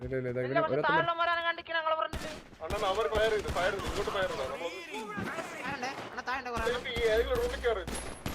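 Gunfire during a robbery in a GTA video game, bursts of rapid shots crackling under loud, excited voices and music, with people talking over nearly the whole stretch.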